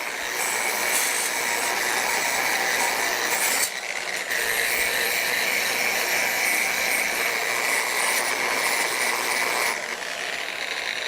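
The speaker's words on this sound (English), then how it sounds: "So I'm going to go ahead and wire wheel this a little bit here." A wire wheel grinds steadily on a steel feather bowl, a loud, continuous abrasive whir that dips briefly twice as the workpiece shifts.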